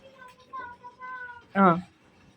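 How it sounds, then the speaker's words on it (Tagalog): A ginger cat meows close by, with a couple of soft drawn-out calls followed by one loud, sharp meow. "Maganda siyang pusa pero saksakan ng maldita."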